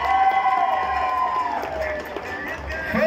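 A Christmas string band contest crowd cheers and claps for a group, a moderately loud mix of voices, whistles and scattered applause under a continuous hum of crowd noise.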